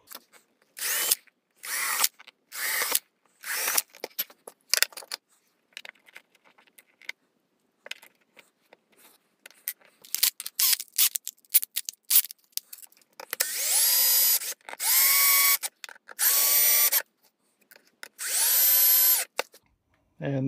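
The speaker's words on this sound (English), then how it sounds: "And just drill my four holes for my cover." A power drill bores four holes for a pickup cover on a cigar box guitar, sounding in short, close whirring bursts separated by pauses, heavier and steadier toward the end, with a few quiet handling noises between.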